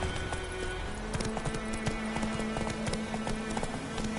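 Roach, the horse in The Witcher 3, gallops in a steady clip-clop rhythm of hooves, close and continuous, with a brief low voice at the start.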